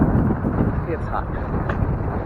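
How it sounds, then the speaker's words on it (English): A hot, strong wind buffets the microphone during a bicycle ride on a Quebec rail trail, making a constant low rumbling roar. "And it is windy. And it's a hot wind."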